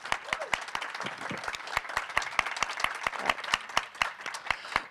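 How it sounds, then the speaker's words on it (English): Audience clapping for invited guests at a university panel on environmental racism, sharp distinct claps at a fairly even pace, moderately near, continuing throughout over faint room noise. "Give a big round of applause to our invited guests"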